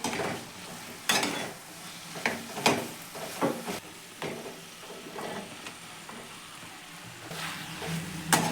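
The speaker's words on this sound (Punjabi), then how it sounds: "ਹੁਣ ਇਹਦੇ ਵਿੱਚ ਆਪਾਂ ਗੋਭੀ ਐਡ ਕਰਾਂਗੇ ਤੇ ਇਹਨੂੰ ਚੰਗੀ ਤਰ੍ਹਾਂ ਦੇ ਨਾਲ ਮਿਲਾ ਦੇਵਾਂਗੇ" Cauliflower and potatoes are stirred in a hot pan with a spatula, steady frying sizzle underneath a series of sharp scraping and clanking strokes against the metal, close up, without speech.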